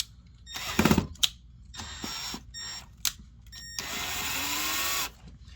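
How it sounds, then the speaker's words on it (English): Short bursts of a power drill driving a screw into a wall outlet, whirring, stopping and starting, then a longer steady whine near the end; close by, no talking. "I'll get it started with the drill."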